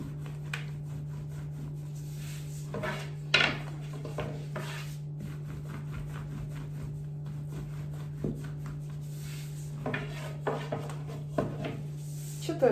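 A large wooden rolling pin rubs and knocks over baklava dough, giving sparse, soft scraping strokes and occasional light taps over a steady electrical hum.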